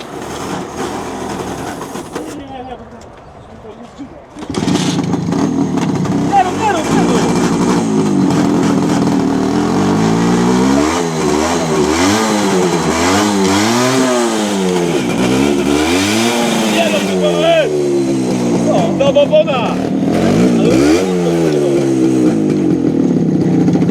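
A small MZ ETZ 125 motorcycle engine making strange noises runs loud and close at a charity motorcycle picnic, revving up and down repeatedly with a buzzing, rising-and-falling whine after a quieter start.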